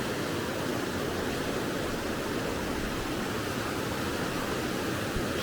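Steady, dense rushing water sounds close by, a continuous broadband roar with no breaks or voices, like a swollen stream pouring over stones outdoors.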